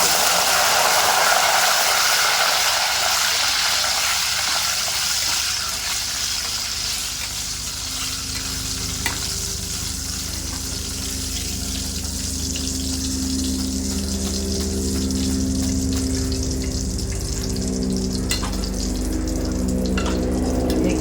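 Loud, steady sizzling and bubbling as salt water is poured into hot oil while frying banana chips, a continuous frying hiss with watery gushing throughout.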